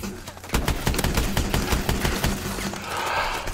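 Rapid automatic fire from an EPM3 gun in Call of Duty Advanced Warfare, loud, dense rattling bursts for a few seconds with a fast, even rhythm.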